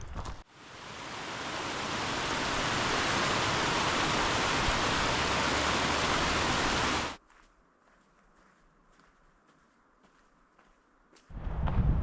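Rushing water hisses loudly and steadily for several seconds from small streams along a hiking trail in Glacier National Park, then cuts off to near quiet before the flow returns at the end.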